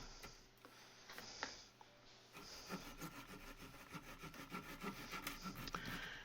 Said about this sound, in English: I like using this my little drywall saw